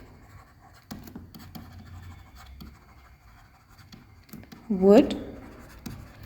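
Pen scratching on paper while notes are written by hand, soft strokes under a person speaking.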